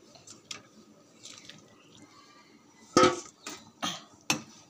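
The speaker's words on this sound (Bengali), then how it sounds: "এবার আমি মাছগুলো দিয়ে দেবো তরকারিতে।" Boal fish pieces drop into a simmering curry with potatoes, onion, chilli, ginger and tomato, making a few wet splashes and drips alongside light clinks of a pot and utensil.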